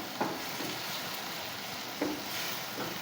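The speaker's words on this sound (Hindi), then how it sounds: "हमने इस सारे मसाले को अच्छी तरह से पकाना है।" Masala for gravy noodles cooks in a pan with a soft, steady sizzle and a few brief scraping stirs; no one talks.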